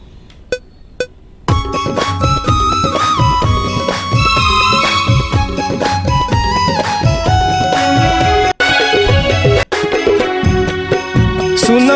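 A Chhattisgarhi panthi-style election music track plays after a short quiet lead-in with a couple of faint taps: dense, loud percussion driving a steady rhythm under melodic instruments, with two brief dropouts near the end.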